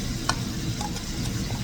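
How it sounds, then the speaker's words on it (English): Chicken frying in a pan, a faint, steady sizzle with a few light clicks and stirring taps over about two seconds, heard alone without voices. "while our chicken is frying"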